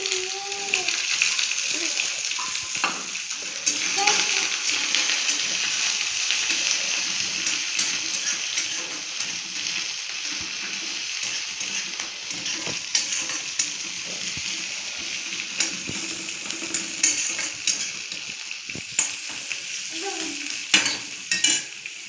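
Garlic and onion fry in oil in a pan with a steady close sizzle, scraped and stirred throughout with clicks and knocks, and a voice speaks now and then underneath.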